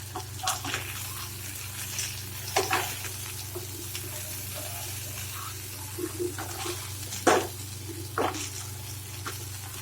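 Fish frying on a tawa (flat griddle) over a slow fire gives a soft, steady sizzle, broken by occasional scraping and clinking from turning or stirring, with no one speaking.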